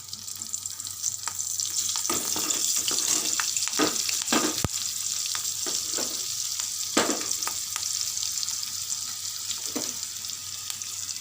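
Mustard seeds, cumin, turmeric and green chillies sizzle in hot oil for a moringa-leaf chutney, a steady frying hiss with sharp crackling pops and occasional spoon scrapes throughout.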